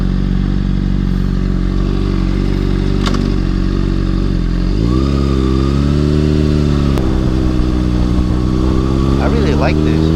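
A 2013 Honda CBR600RR motorcycle ridden and downshifted through the gears, a loud steady engine drone that dips and shifts pitch midway as the revs change, heard close, with a rider talking over it.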